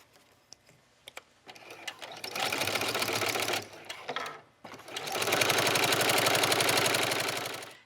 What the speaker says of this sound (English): So you'll just continue sewing all the way around your strap till you get back to the place where you started.